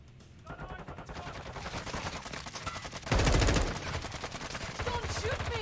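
Rapid automatic gunfire crackles through a video game match, with a dense, loud burst near the middle over steady game noise, while a player talks over the action.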